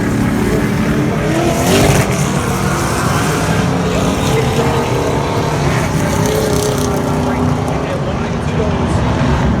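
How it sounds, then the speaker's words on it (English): Loud, continuous roar of pro stock race cars driving past close by during a 250-lap race at Scotia Speedworld, a dense droning rumble with no break. "Watch these cars roll by. This is a 250 race."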